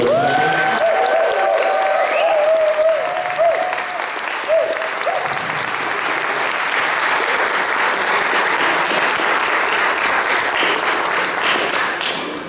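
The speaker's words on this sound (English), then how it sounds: "So if we can give a round of applause, for the hotel, please, to show." A lunch gathering applauds the hotel staff, loud sustained clapping from a sizeable crowd filling the room after a brief tone and some voices at the start, holding steady throughout.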